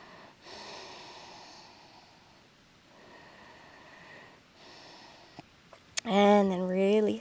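A yoga practitioner holding a forward fold over the left leg breathes slowly and deeply, with soft, airy inhales and exhales repeating in long cycles, then a voiced sound near the end.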